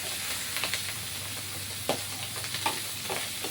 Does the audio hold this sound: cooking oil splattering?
yes